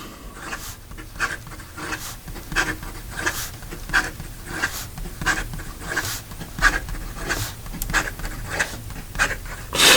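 A Montblanc Starwalker 2019 fountain pen with an extra fine nib scratches quickly across paper in a steady rhythm of short strokes, each a close, dry rasp at about two per second.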